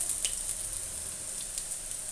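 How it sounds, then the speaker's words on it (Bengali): Chopped ginger fries lightly in hot oil in a pan, giving a soft, steady sizzle with faint crackles and pops, near and alone. "দিয়ে আমি একটু হালকা হালকা করে ভেজে নেব।"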